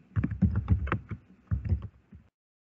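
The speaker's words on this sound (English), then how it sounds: "So now I can start to type everything." Fingers tap quickly on a computer keyboard, two short bursts of close, light clicking keystrokes separated by a brief pause, then silence.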